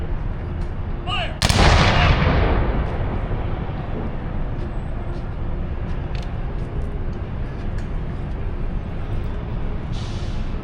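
A gunfire volley at a Veterans Day parade in Houston, a single loud outdoor blast echoing and fading over steady crowd and traffic noise.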